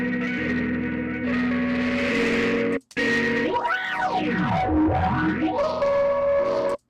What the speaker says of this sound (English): Then we have DFM, which works as a circuit to introduce more distortion.